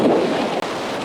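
A small handheld Goojodoq mini portable turbo fan runs at high speed, giving a loud, steady rush of blowing air close to the microphone with a brief dropout partway through.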